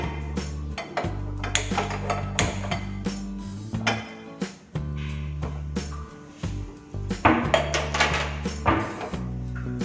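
A cooking pan is handled while making lemon rice and chutney, with a series of metallic clanks and clinks at irregular intervals over faint background music.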